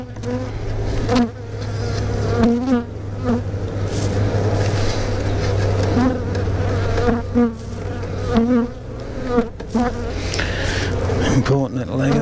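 Honeybees in a nuc hive buzz loudly and continuously at close range during a UK hive inspection, a dense, steady hum with no pauses.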